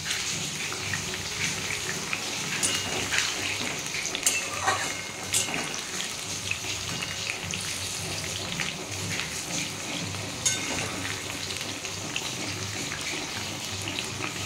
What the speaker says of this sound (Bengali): আর একটু ভাজবো, ভেজে আমি তুলে নেব।